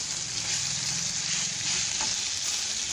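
Crushed elephant apple (chalta) fries in tempered oil for chutney, a continuous close hiss-and-sizzle with a faint stir or scrape near the end, no talking.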